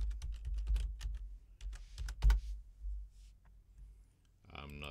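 Password being typed on a computer keyboard: a quick run of close, crisp key clicks in uneven bursts, with a brief different noise at the very end.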